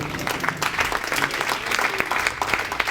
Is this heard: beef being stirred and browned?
no